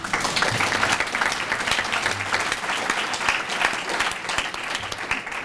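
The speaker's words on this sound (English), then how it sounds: "everyone here deserves to give themselves a round of applause" Sustained applause from a large audience at a talk, steady and fairly loud, many hands clapping in a dense texture that holds evenly for several seconds.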